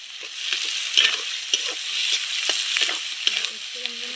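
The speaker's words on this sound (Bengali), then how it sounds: "একটু নেড়ে চেড়ে ক্যাপসিকাম আর গাজরগুলোও দিয়ে দেব।" Capsicum and carrots being stir-fried for homemade chowmein, with repeated scraping and stirring strokes in the pan over a steady soft sizzle, close and moderately loud.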